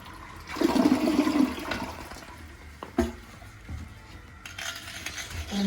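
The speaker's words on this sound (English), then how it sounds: "I'm going to flush this." A household toilet flushes close by, a loud rushing surge of water that swirls down, then fades into quieter refilling trickles, with a few small clinks and knocks.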